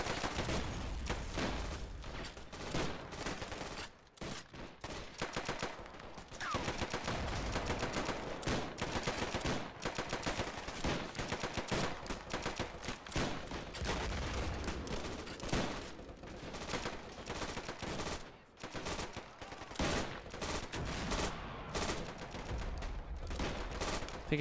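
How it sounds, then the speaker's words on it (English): Heavy machine gun fire in a WWII video game battle with US airborne and armor assaulting Foy, dense and continuous bursts of automatic gunfire dominating throughout, loud and close with no pauses. "I think I hear an MG42, not sure where it's located."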